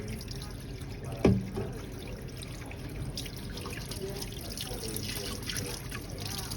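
Tap water runs steadily while a dirty spoon is rinsed in a workplace kitchen: a continuous close trickle and splash with one brief sharp knock near the start.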